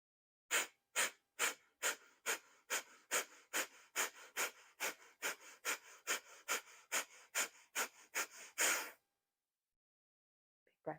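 Breath of fire yoga breathing: about twenty rapid, forceful exhales in an even rhythm, close and clear, then silence.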